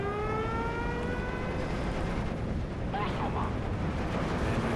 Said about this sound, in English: we've got some Nebelwerfer fire, which is making my life easier